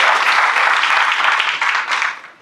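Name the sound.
audience applause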